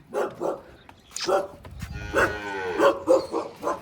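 Several nearby moos from cattle, some short and one drawn out, with another animal call mixed in and faint background noise.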